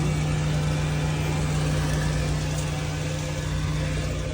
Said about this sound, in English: We have the generator running right now.